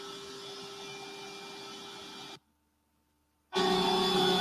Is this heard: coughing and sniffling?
no